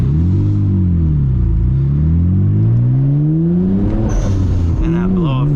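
A Nissan R32 GTR engine drones and climbs in pitch while driving, then a sharp hissing release from the blow-off valve cuts in, loud and close from inside the car.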